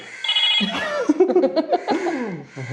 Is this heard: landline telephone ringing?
yes